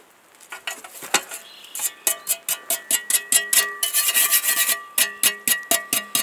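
Grit being scraped off a steel shovel blade before sharpening makes quick, rhythmic rasping strokes, close and crisp, that speed up into a steady back-and-forth pattern.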